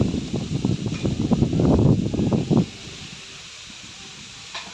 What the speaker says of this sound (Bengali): খুব সুন্দর বাতাস দিচ্ছে আর হালকা একদম ঝিরিঝিরি বৃষ্টি হচ্ছে